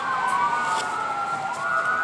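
Emergency vehicle sirens wail steadily in the distance, their pitches slowly rising and falling over a constant background.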